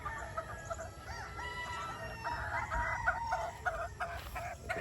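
Broodcock roosters crow repeatedly over steady clucking, several birds calling at once and overlapping in a busy farmyard chorus, fairly close and without voices.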